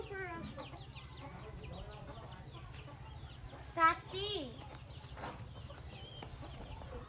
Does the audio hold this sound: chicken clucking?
yes